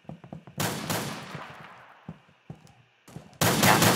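Bursts of video game gunfire: a few sharp single shots, then a loud sustained volley with a decaying tail, more scattered pops, and a second heavy burst at the end.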